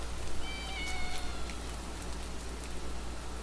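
A cat meows outdoors on a street, a short plaintive call near the start, heard over steady rain and low background rumble.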